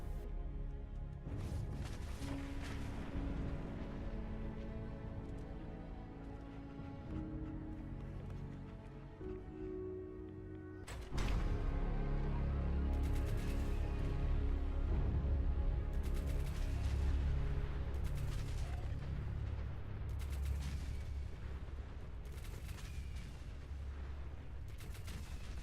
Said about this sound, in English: it works in the same way as the automatic Fat Man, only the explosions are much bigger and more damaging